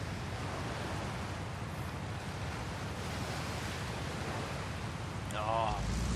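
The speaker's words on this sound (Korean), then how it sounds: "잠깐 파도 소리 듣고 갈까요?" Steady broadband wash of ocean surf breaking on a coastline in Forza Horizon 5, continuous and fairly loud throughout, with a short burst of voice near the end.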